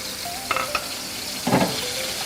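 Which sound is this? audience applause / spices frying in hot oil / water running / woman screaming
spices frying in hot oil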